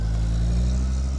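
Mercedes-Benz W123 300D diesel car setting off, a loud, close, steady low engine drone with strong rumbling harmonics, heard briefly on its own.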